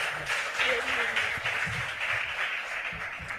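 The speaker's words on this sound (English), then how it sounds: "Let's give a hand of applause to them." Students and spectators at a regional school quiz contest clap for the contestants, producing a continuous, moderately loud wash of applause with some talking underneath.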